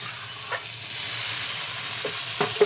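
Masala for a fish roe kofta curry fries in oil in a pan, a steady close sizzle broken by a few scraping stirs, with no talk.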